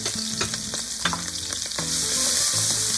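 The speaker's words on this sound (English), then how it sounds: "We start from cooking oil and chili." Chili frying in cooking oil in a wok for spicy garlic basil clams crackles and sizzles loudly and close up, with a few scraping stirs, and the hiss grows denser toward the end.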